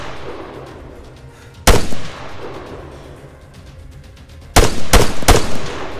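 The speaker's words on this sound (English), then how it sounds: "Machine gun. 100 meters." Gunfire in the ArmA 3 combat video game: a single sharp, loud shot, then a quiet stretch of low rumble, then a quick burst of three close, heavy machine-gun reports.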